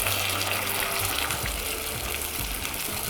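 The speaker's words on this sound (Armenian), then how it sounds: "Ավելացնում ենք այնքան եռացած ջուր," Boiling water gushes from a vessel over pieces of meat in a pot for broth, a steady close pouring rush with no talking.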